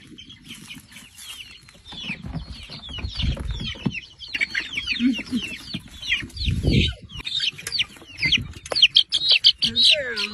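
Chickens clucking as they head back to their coop from a chicken tractor, with many overlapping clucks and chirps near and far, and a person speaking briefly in between.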